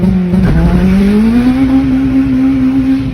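A Honda Civic EP3 Type-R engine revs, its tone rising and holding high near full rpm in a loud, sustained wail, close and alone.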